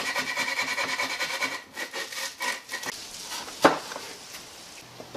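Wooden edges of a DIY Halloween gallows prop are rounded by hand, giving a steady run of close, rasping strokes that loosen and fade, then a sharp single knock near the end.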